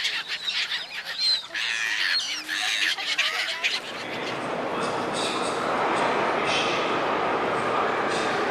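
Ducks squawk in a series of harsh, fairly close calls with a person talking over them, then the scene gives way to a loud steady rumble.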